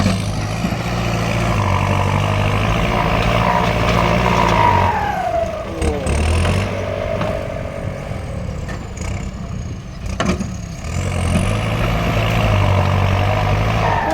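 A tractor engine runs loudly and steadily with a low rumbling drone, its pitch shifting as it works, in a rural rainy-season work setting with no talk.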